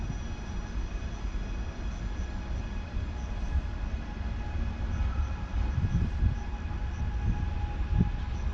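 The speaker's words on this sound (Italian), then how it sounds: "Il treno regionale 21 9 1" Regional train passing near Ciampino airport, a steady low rumble with faint high whine, continuous and moderately distant with slight swells toward the end.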